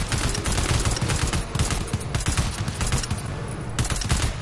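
Video game gunfire in a prison-break mission: loud, dense volleys of rapid shots burst continuously and close up for several seconds, with no voices over them.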